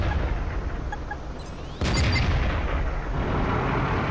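A Skoda T-50 tank cannon in World of Tanks fires a loud, booming shot midway, sharply raising a dense rumbling battle background that stays heavy afterward.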